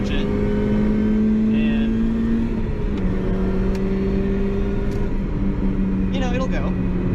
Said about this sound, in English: When you do want to go, you can just pop into third gear on the freeway and like just punch it